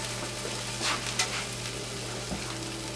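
Chicken goes into a sizzling vegetable stir fry, giving a steady close frying hiss with a few brighter crackles and stirring scrapes, no talking.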